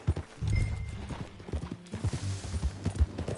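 Horse hooves clip-clop unevenly at a walking pace in the video game Red Dead Redemption 2, fairly close, over a soft low rumble.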